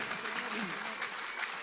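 A church gathering in El Zapote, San Miguel, gives a soft, washy round of applause for a family. The clapping sounds distant and blended, with voices faintly mixed in.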